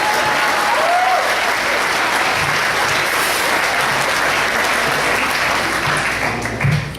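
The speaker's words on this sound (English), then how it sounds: "We should probably have another round of applause for her." Wedding reception guests applaud, a dense and steady round of clapping that holds for several seconds and then begins to taper off at the end.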